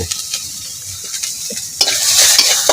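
Food is stirred in a pan, then a loud sizzle of frying bursts up as onion and garlic hit the hot oil, close by.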